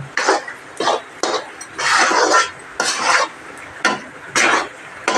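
A spoon scrapes and stirs gram flour as it roasts over a high flame in a kadhai, making repeated close scraping strokes in an uneven rhythm with brief pauses between them, and no voice is heard.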